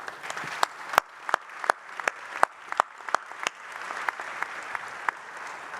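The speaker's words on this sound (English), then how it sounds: "If we can give them a round of applause, I appreciate it." An audience at a military command panel event gives a round of applause, a steady wash of clapping with several sharp, close claps punctuating it throughout.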